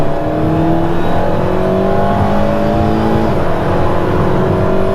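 A sports car accelerates on the high-speed test track at Millbrook proving ground, its engine note loud and close, climbing steadily in pitch as it pulls through the run without any talking.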